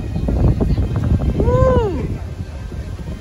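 Low, blustery wind rumble buffets the microphone outdoors at Epcot, under a person's voice and a brief excited shout.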